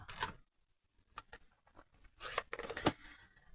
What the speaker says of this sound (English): So we'll cut a piece there.